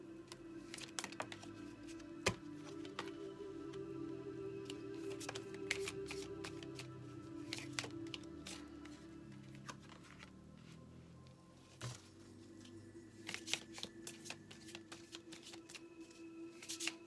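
An oracle card deck, the Oracle des miroirs, is shuffled over and over in a steady run of soft papery riffles and flicks, close to the microphone, with no one talking.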